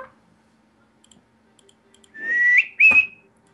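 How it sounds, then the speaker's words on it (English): A whistle sounds in a 3v3 online shooter match, two short rising tonal blasts close together and fairly loud, preceded by faint clicks. "he doesn't know about the whistles"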